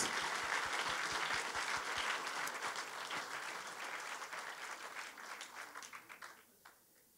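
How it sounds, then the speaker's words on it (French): Applause from the audience at an award ceremony for the Marius Lavet 2018 prize laureates, posing for a group photo; steady dense clapping with a few sharp claps early on, tapering away near the end. "on va pouvoir faire cette photo de groupe sous les applaudissements"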